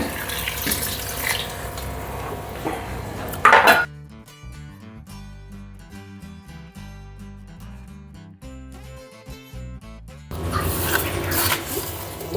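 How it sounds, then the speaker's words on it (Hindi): Water pours into a pressure cooker holding mutton and green chillies for a Peshawari namkeen gosht, a loud splashing rush at the start and again at the end, with quieter clinking kitchen sounds between. "अब हम इसके अंदर पानी ऐड करेंगे।"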